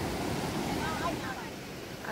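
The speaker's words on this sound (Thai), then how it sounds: "น้ำไหลแรงมาก" Shannon Falls waterfall pouring heavily in an outdoor park, heard as a steady broadband roar of rushing water with wind buffeting the microphone, constant and fairly loud throughout.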